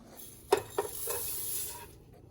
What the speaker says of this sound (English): he's going to stir that really quickly